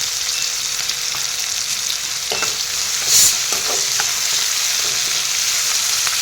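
Chopped onions sizzle steadily with salt in a hot pan during village-style home cooking of a fish curry, with a few soft spatula scrapes and stirs breaking the constant frying hiss.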